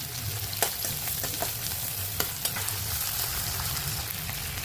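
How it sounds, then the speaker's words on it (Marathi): Onions and potatoes frying with ginger-garlic paste for veg pulao, a continuous close sizzle with occasional spoon scrapes and clicks against the pan. "कांदा आपला झाला तळून त्याच्यात आपले टाकायचे बटाटे. बटाटे बी तळून घेऊ."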